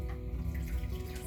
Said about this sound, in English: Spin it around 5 times in the water.